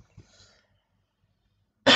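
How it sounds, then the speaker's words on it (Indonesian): A single sharp, loud cough bursts out near the end after a quiet pause, close to the microphone. "Maaf, batuk."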